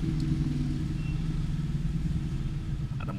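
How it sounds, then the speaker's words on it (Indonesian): Motorbike passing a house beside a repair shop, a low steady engine rumble droning continuously at moderate distance, muffled as if heard from indoors, with no talk. "ada motor"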